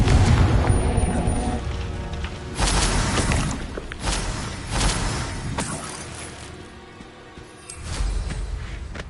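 Booming spell blasts from the Confringo fire spell in the wizarding game Hogwarts Legacy burst repeatedly over a layer of combat whooshes and impacts, loud and close.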